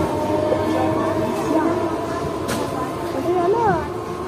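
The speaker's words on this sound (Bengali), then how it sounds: "দাও, ট্রেনটাকে টাটা করে দাও।" A train rolls past on the tracks near a family watching from the line, giving a continuous loud rumble with faint squeals, while people talk over it.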